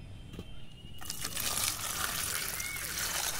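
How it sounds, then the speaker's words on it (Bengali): Fresh mangoes are rinsed in water outdoors on a grassy spot, a soft steady splashing and trickling starting after a quiet second and continuing faintly for the rest of the moment. "আমগুলো খুব ভালো করে পরিষ্কার করে ধুয়ে নেব"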